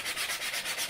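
Sanding the edges of a 3D-printed lightweight PLA (LW-PLA) model aircraft part, a steady close-up abrasive rubbing in short repeated strokes, alone and fairly quiet.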